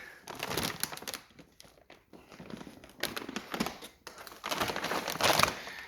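A plastic bag stuffed with removed car airbags from a 2016 Skoda Octavia vRS crinkles and rustles in repeated handling bursts up close, with brief lulls between the waves of crackling.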